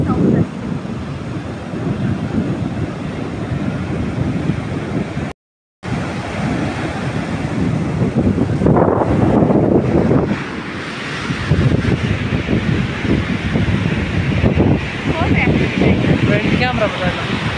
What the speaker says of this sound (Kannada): ಆ ಗಾಳಿ ಫೋರ್ಸ್ಗೆ ಆ ಬೀಚಲ್ಲಿರೋ ನೀರು ನಾವು ನಿಂತಿದ್ದೀನಲ್ಲ ಅಲ್ಲಿವರೆಗೂ ಬರ್ತಾಯಿತ್ತು